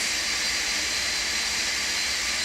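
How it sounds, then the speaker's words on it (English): A steady, hissing jet engine roar from a Boeing 747-200 in a flight simulator, a constant high-pitched whine and rush with no break, with no voices over it. "I gotta turn down my airplane noise there in the background."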